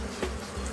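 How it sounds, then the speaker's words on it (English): Angry killer bees swarming and attacking during a hive removal, a steady close buzzing drone with a brief louder swell, no talk. "Realizing the entrance to their hive is blocked, the angry bees continue to attack Reed and Jim."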